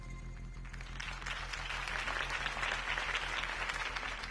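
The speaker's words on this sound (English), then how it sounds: "If only Mr. Wayne, my campaign's largest backer, could have heard that applause" A crowd claps and cheers steadily throughout in the Batman Telltale video game, a dense, even wash of applause that swells slightly midway.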